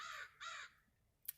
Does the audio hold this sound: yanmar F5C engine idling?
no